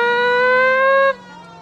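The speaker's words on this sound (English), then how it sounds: "Turn the siren on." A police car siren in the L.A. Noire video game holds a loud, steady, sustained wail for about a second, then cuts off abruptly, leaving a faint low hum.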